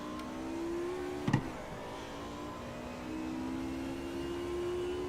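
A Mercedes DTM race car from the 1992 season, racing at Hockenheim in Automobilista 2, holds a steady, loud engine drone that shifts pitch slightly, with one short sharp knock early on and no talk.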